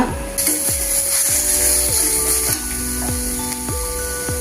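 Carrot pieces frying in a pan over medium heat, a steady bright sizzle with repeated scraping stirs of a spatula across the pan, close and alone without talk.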